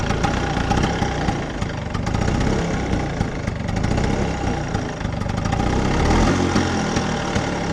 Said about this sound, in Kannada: ಬನ್ನಿ ಇವಾಗ ನಿಮಗೆ ಗಾಡಿ ಸ್ಟಾರ್ಟ್ ಮಾಡಿ ತೋರಿಸ್ತೀನಿ ಹೋಗ್ಬಿಡ ಒಂದೇ ಒಂದೇ ಸ್ಟಾರ್ಟ್